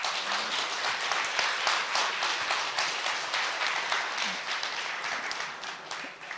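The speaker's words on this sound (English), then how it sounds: "Can I ask for a round of applause for that team?" A crowd applauds the Technovator team at a hackathon awards ceremony, dense steady clapping filling the whole stretch at close range and tapering slightly at the end.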